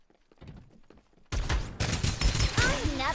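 Gunfire in Farlight 84, a battle-royale shooter, bursting in loudly after a quieter start, with rapid overlapping shots, impacts and whooshing effects stacked in a busy mix.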